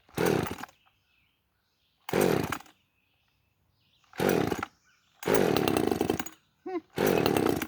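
A small top-handle limbing chainsaw is revved in repeated loud, close bursts of about half a second to a second, separated by quiet gaps where it drops back to a faint idle.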